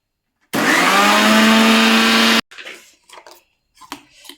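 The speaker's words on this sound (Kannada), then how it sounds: "ಇವಾಗ ಇದನ್ನು ನಾನು ಮಿಕ್ಸಿಗೆ ಹಾಕ್ಕೊತೀನಿ." Mixer grinder blending spinach paste with a little water runs loud and steady for about two seconds, then stops abruptly, followed by faint clinks and handling noises.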